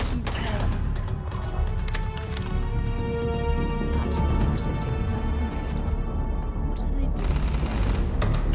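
Gunfire in Starfield during Xbox gameplay, a dense continuous barrage of shots and combat noise that stays loud throughout, with a brief thinning of the fire near the end.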